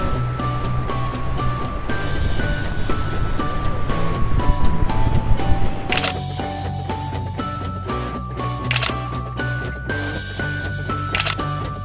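Strong wind at the seaside in Yehliu, Taiwan, buffeting in rapid gusty bursts over a continuous roar of surf, with faint tonal sounds drifting underneath.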